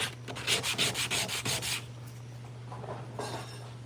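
Sanding dried 2K epoxy primer on the hood of a 1986 Chevrolet C10 truck, a run of fast rhythmic rasping strokes close by, then a pause and a couple of softer strokes.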